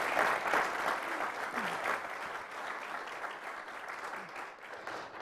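Warm applause from the audience at a National Press Club interview event with Labor Secretary Hilda Solis, a steady wash of many hands clapping that holds for the whole stretch and eases slightly toward the end.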